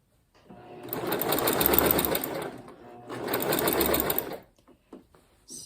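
A sewing machine stitches a seam on a baby quilt in two steady, fast runs of about two seconds each, close and loud, with a short pause between them and a few small handling clicks at the end.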